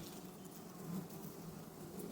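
Honeybees buzz at an open hive during queen replacement, a faint, steady low drone that continues without pause.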